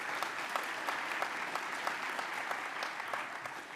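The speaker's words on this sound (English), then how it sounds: "let's give them a round of applause" Steady applause from an audience at an awards event for a university student jazz quartet, dense and continuous with crisp individual claps, moderately distant and alone without talk.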